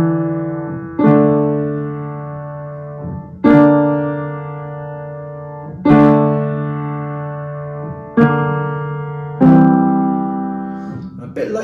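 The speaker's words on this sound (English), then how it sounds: "like the keyboard brass sounds" Sustained keyboard brass chords from a song, struck about every two to three seconds, each loud harmonic stab decaying slowly before the next, with no voices.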